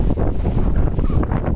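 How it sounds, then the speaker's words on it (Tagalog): Strong wind buffets the microphone with a low, rumbling roar, gusting continuously without pause. "Malakas lang yung hangin"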